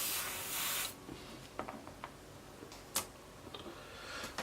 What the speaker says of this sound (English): Give them a little spray.